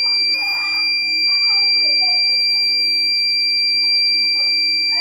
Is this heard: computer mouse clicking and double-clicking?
no